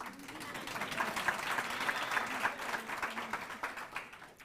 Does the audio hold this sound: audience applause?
yes